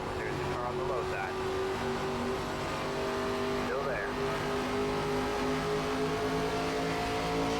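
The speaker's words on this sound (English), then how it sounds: "There's the car on the low side." A race car engine drones at steady high revs in the iRacing sim during an ARCA race at Gateway, with other cars' engines under someone talking.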